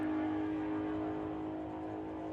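A drag racing car at a sportsman nationals test day launches hard off the line, its engine a loud, steady roaring drone with a rough, juddering edge, heard from a distance without talk.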